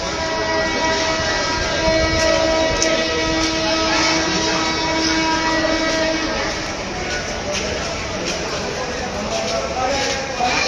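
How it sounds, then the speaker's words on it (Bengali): The Agnibina Express intercity train pulls out of a station in Dhaka, its sustained horn sounding over a dense rumble of rolling wagons and platform noise, loud and near, with people talking throughout. "অগ্নিবীণা এক্সপ্রেস ট্রেনটি ছেড়ে যাচ্ছে"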